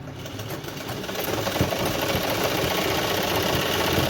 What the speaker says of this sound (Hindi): यहाँ से हम सिलाई चलाएंगे